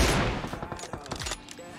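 Rapid bursts of gunfire from the mobile battle royale PUBG Mobile, loud and close at first with a fast volley, then scattered shots continuing at a distance, with speech faintly mixed in.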